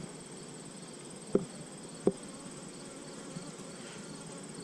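Honeybees at an open hive make a faint, steady, low buzzing that carries through the whole stretch, broken twice by soft knocks.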